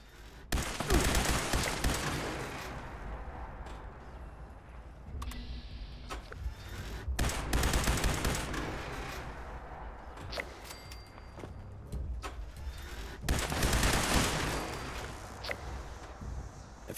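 Bursts of rapid gunfire in Fallout 76 destroy robots during an in-game event, with loud sustained volleys repeating at intervals and quieter stretches of sporadic shots between them.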